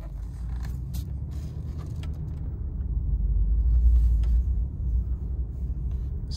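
A 2013 Ram 1500 Quad Cab rolling slowly around a dealer lot, heard from inside the cab as a low steady engine and road rumble that swells midway, with faint creaks and ticks over it and no talking.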